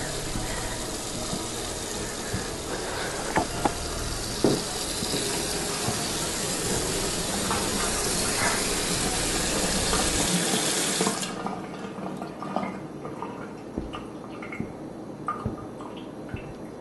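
A tap gushes steadily with broadband hiss and scattered drips and clinks, then shuts off abruptly, leaving quieter room tone with faint clicks.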